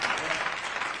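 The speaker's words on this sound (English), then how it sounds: "And then you see people clapping and smiling" Audience applause at a Jasmine Crockett speech, a brief dense burst of steady clapping from many hands, even in loudness throughout.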